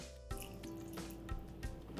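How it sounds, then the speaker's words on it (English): Water is poured into a pan of spinach curry for methi matar palak, a short close splash and trickle with a couple of soft drips, brief and fairly quiet. "To this, let's add in water to adjust the consistency."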